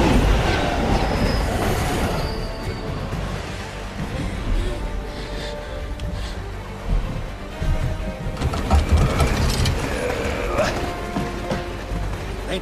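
A train runs on rails with a loud, steady rumble, clattering wheels and occasional metallic squeals throughout, and faint voices appear now and then.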